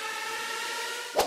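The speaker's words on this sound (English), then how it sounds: "for the FX, I have these standard risers" Standard riser effects in an electronic track, a sustained bright tonal swell holding steady and ending in a short burst of noise, moderately quiet and alone.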